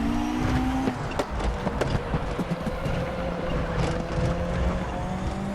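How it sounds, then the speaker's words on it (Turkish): A Mercedes race car in the RaceRoom racing game drifting through a corner, with a steady engine roar and intermittent thin squeals from the tires. "Pek de fren yapamadı. Drift yaparak döndük resmen."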